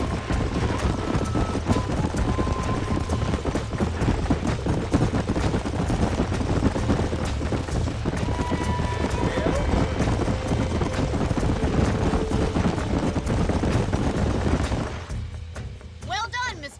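Horses galloping across open country in Red Dead Redemption, a dense run of hoofbeats under steady game ambience while characters talk over it, fading toward the end.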